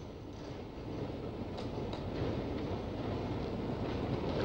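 A Southern Railway Pullman Express train runs steadily, its wheels and carriages making a continuous, fairly loud rumbling roar with faint clicking. No voices are heard.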